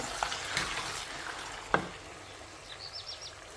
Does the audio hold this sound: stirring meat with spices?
yes